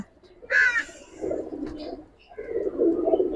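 Giribaz pigeons coo in a loft in low throaty bursts, close by, with a brief sharper call early on and a soft murmur between phrases.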